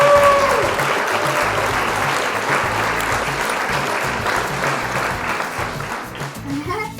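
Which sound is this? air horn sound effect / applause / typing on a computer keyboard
applause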